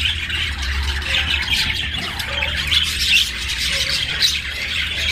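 Budgerigar chicks in a nest squawk and chirp continuously at close range, with shrill overlapping calls and no talking.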